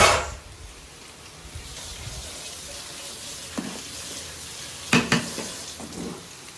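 A biryani mixture is stirred in a pan, with a soft, steady sizzle under a few sharp clinks and scrapes of the spoon against the metal, close and fairly quiet.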